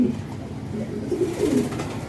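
A pigeon gives a soft, low cooing, a couple of short murmuring phrases close by over a quiet background.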